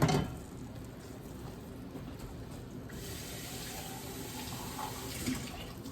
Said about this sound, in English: And then I fill it about halfway up with water and add that as well.